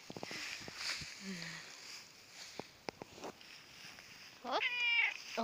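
A British Shorthair cat out on an outdoor walk gives one clear, close meow near the end, after a few seconds of quiet rustling and soft taps.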